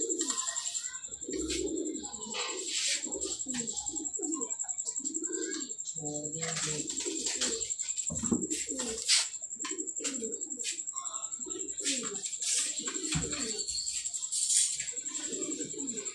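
Pigeons at a pigeon club coo repeatedly in soft, throaty, rolling calls, close by, with occasional chirps and a brief flutter of wings, under men's conversation and a steady high electrical whine.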